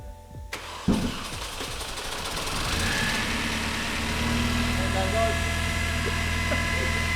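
A Mini Cooper S engine with suspected lifter trouble and contaminated oil cranks, catches and settles into a steady, loud idle with a faint ticking. A voice talks over it.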